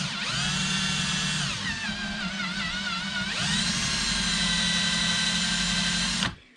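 Steady whine of a handheld power drill with a short bit boring into metal for cooling plates, a continuous loud motor tone that dips and recovers under load before cutting off abruptly at the end.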